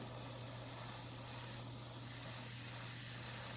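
An airbrush sprays paint thinned with about 10% thinner, a steady close hiss running without a break over a low constant hum.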